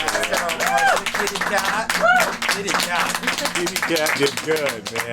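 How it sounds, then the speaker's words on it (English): Scattered clapping and applause for a participant mixes with loud, animated voices talking close by throughout. "Give her a round of applause,"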